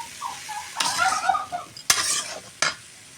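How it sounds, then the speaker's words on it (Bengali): Taro (kochu) fries in a pan, a close sizzle and spatter with brief stirring bursts and a couple of sharp utensil knocks against the pan. "এখন আমি ভেজে নেব।"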